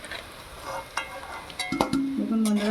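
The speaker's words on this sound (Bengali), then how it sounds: "এইভাবে আমি একইভাবে সবগুলো ভেজে নেব।" Vegetables fry in hot oil in a home kitchen with a soft sizzle, punctuated by a few clinks and scrapes of a utensil stirring the pan, close and fairly quiet.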